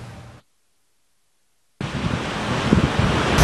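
Strong wind around Lake Maninjau in Agam, a gusty broadband roar buffeting the microphone, cut by a brief silence before returning louder and steady.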